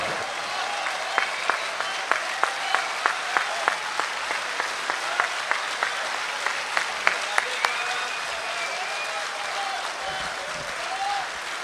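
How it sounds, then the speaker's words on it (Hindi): Audience applause at a poetry mushaira in Dubai, steady clapping from a large crowd with rhythmic rounds of claps in unison, ending with scattered clapping. "एक बार जोरदार तालियां"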